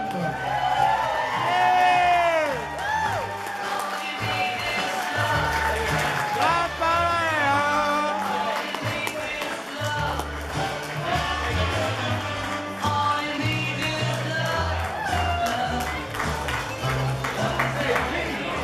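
Wedding guests clap and cheer as the groom's parents enter the reception, steady applause and whoops over loud music, with a voice speaking over the crowd.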